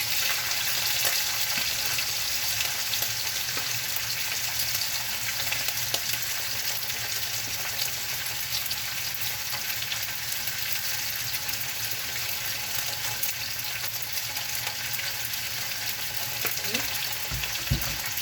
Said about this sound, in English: now I'm going to add the rotini to the lamb